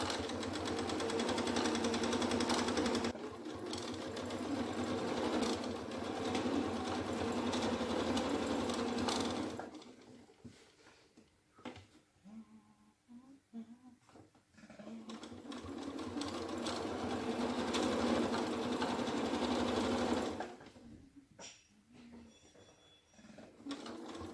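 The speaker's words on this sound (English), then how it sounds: "So I'm going in to sew now." A sewing machine with twin needles stitches stretch fabric in two long steady runs of fast, even whirring, each followed by a quieter pause with small clicks and handling noises.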